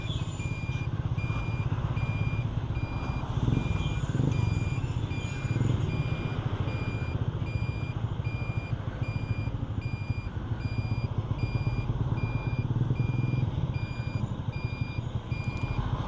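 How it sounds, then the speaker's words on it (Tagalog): Busy road traffic with steady engine rumble from trucks and cars, a vehicle's reversing beeper repeating throughout, continuous and fairly close with no talking. "Super traffic guys."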